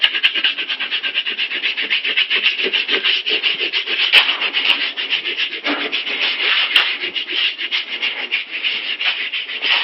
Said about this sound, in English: take the universal wax and rub on a light layer